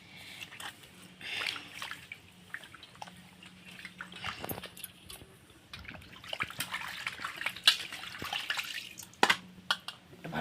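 Fish being washed by hand in water, with intermittent splashing, sloshing and trickling at close range, irregular bursts rising and falling, and a faint low hum underneath.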